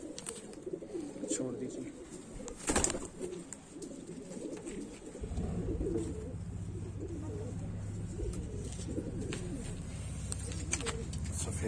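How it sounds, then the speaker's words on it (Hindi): Soft low cooing from a kalpari female pigeon, held in hand, runs beneath a voice, with a sharp handling noise partway through and a steadier hum later on. "कलपरी कबूतरी"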